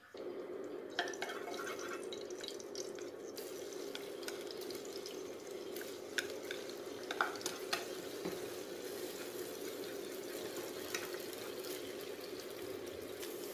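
Garlic and shallots frying in a pan for a Vietnamese vegetarian dish, a steady soft sizzle with occasional drips and stirring clicks throughout, no talk.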